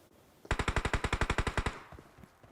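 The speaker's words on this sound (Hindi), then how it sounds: "गोलियां दबा के चल रही है" Automatic gunfire in the PUBG Mobile battle royale game: one rapid, evenly spaced burst of about fifteen loud shots close by, followed by fading echoes.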